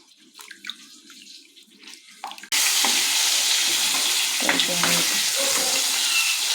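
Eggplant frying in a covered pan is muffled and quiet at first, then a loud, steady, close sizzle bursts out as the lid comes off and continues to the end.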